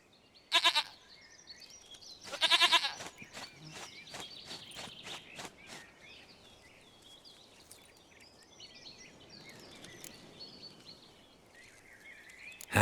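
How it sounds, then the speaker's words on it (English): A goat in The Witcher 3 video game gives two loud bleats early on, followed by a series of quicker bleating pulses and then quiet ambience. "goat of mine, dearest,"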